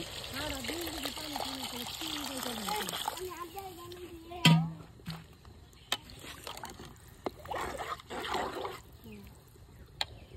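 Water splashes and pours into a pot of fried rice for khichuri after a stretch of nearby talking, with a few sharp knocks and clatters along the way.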